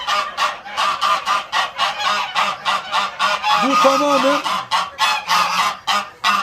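A flock of geese on a goose farm honks loudly and repeatedly at close range in a steady rapid rhythm, with a brief spoken phrase partway through.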